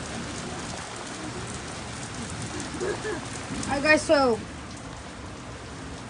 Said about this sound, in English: look how it's raining a lot now